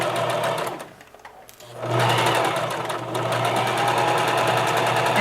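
Sewing machine stitching elastic casing a few millimetres from the fabric edge, running close and loud in a fast steady buzz, easing briefly for a pause before starting up again and carrying on evenly.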